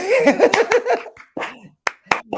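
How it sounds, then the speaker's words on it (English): Someone claps by hand along to a sung Happy Birthday, with sharp, close claps falling in a steady beat under the singing voice, followed by a few isolated claps after the singing stops. "I'm clapping on the 1 and the 3"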